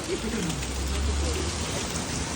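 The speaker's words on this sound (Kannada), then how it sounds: "ಇಲ್ಲಿ ಆಕ್ಚುಲಿ ಮಳೆ ಜಾಸ್ತಿ ಆಗೋಯ್ತು" Heavy rain pours steadily in Goa, forming a dense, loud, unbroken wash of drops, with a few faint voices under it.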